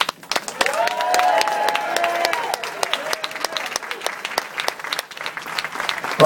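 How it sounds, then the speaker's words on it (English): Wedding guests at Priya's wedding applaud the bride and groom with a sustained round of clapping and some cheering, while a voice carries over the applause. "please put your hands together for the bride and groom"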